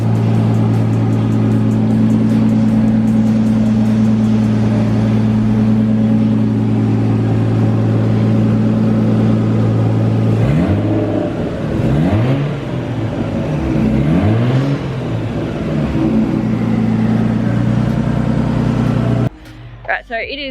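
A Nissan R32 Skyline idles loudly and steadily while warming to operating temperature, then gets several rising and falling revs around the middle before settling back and cutting off near the end.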